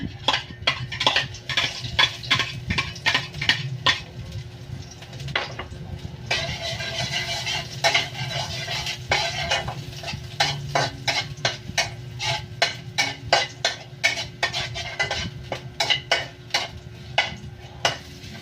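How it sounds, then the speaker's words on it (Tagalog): Garlic for fried rice cooks in a pan, with a quick run of metallic spatula scrapes and clinks that come in bursts over a low sizzling bed, close and fairly loud, with no talking. "Sa ilaw na sasangag na po tayo ng bawang."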